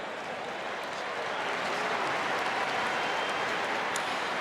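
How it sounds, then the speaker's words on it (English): A large stadium crowd at an AFL State of Origin bushfire appeal match applauds the All-Stars with broad, steady, distant-sounding clapping that holds evenly throughout. "let us first acknowledge the performance of the All-Stars with a round of applause"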